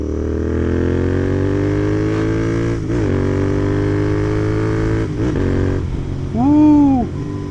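A Royal Enfield GT 650 twin with a Red Rooster exhaust and performance air filter pulls hard under full throttle, engine note rising steadily. Quick upshifts break the sound before a final loud rev, recorded close up.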